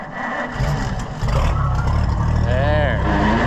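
An Oliver 880 tractor engine runs steadily and loudly nearby with a deep, low rumble, and a voice speaks briefly over it.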